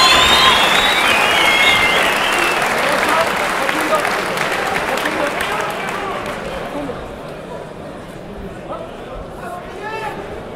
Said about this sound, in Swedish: Bättre kan ni, publiken, ge dem en riktigt varm applåd!